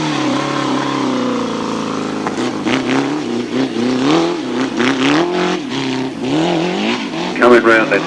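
Grasstrack racing motorcycles on the last lap at the 1991 South East championships, engines droning and then revving with rising and falling pitch, up close and loud, with a voice talking over them.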